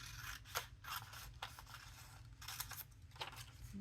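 Scissors snip through paper being cut into matching journal pockets, giving several crisp, close cuts in an uneven rhythm against a quiet room.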